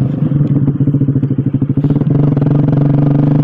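Suzuki GSX-R150 motorcycle with an aftermarket Brataktak exhaust on a short header, idling with loud, close popping pulses that quicken into a rapid, steady burble as the throttle is blipped.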